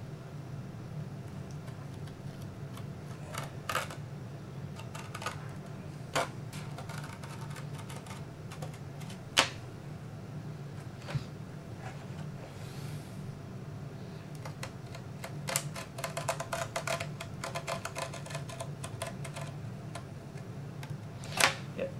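A sharp straight edge razor slices through a model airplane wing, making scattered small clicks and scraping ticks over a low steady hum, close by and fairly quiet, with no talking.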